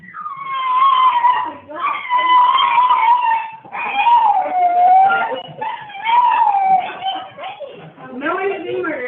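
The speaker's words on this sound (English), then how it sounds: "That's my dog. he goes like he's talking." A dog lets out long, wavering howls and whimpers in a drawn-out, talk-like cadence, several connected phrases rising and falling over about nine seconds, close and fairly loud.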